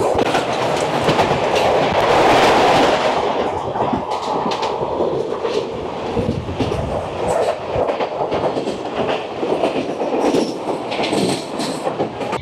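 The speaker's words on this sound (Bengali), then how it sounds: "চলে আসছে গাজীপুর সিটি থেকে কলকাতা শব্দবেদী এক্সপ্রেস" The Shabdbhedi Express from Ghazipur City to Kolkata rolls past close and loud, a continuous heavy rumble with rhythmic clickety-clack of wheels over rail joints and brief metallic squeals.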